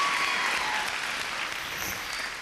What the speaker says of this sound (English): So let's give a massive round of applause for Nijin Beauty Graspilas.